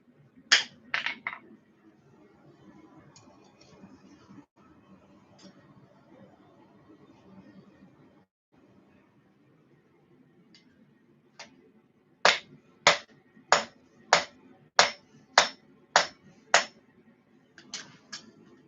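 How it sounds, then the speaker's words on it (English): A Bowie knife blade hammered over an anvil horn: a quick burst of two or three ringing blows, a quiet pause, then a steady run of about nine sharp, bright metallic strikes close by, with no voices. "So we're going to turn this over our horn and hammer down on our nose."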